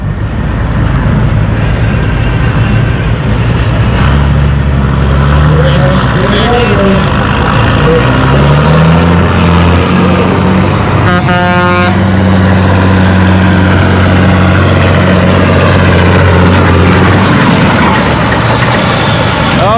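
Pulling tractor hooked to a weighted sled at an outdoor spring tractor pull, a loud sustained engine roar that climbs and drops in pitch over nearly twenty seconds, with a brief horn-like blast in the middle and crowd voices underneath.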